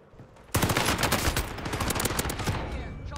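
Rapid automatic gunfire in the video game Call of Duty Warzone erupts abruptly and continues loud and dense for about three seconds, with a steady crackle of bursts and no speech over it.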